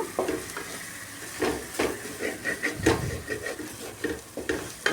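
Chicken masala powder and other ingredients sauté in hot oil for a chicken gravy, with a steady sizzle broken by repeated stirring scrapes and soft clinks of a spoon against the pan, close up and moderately loud.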